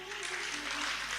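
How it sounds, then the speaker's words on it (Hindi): An audience at a devotional discourse on Lord Krishna claps in a short, dense burst of applause, steady and moderately loud throughout. "अपने लिए जोरदार ताली बजाओ।"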